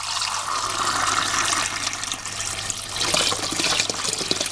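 Water pours steadily into a container, a continuous close gushing stream that thickens slightly toward the end, with no voices.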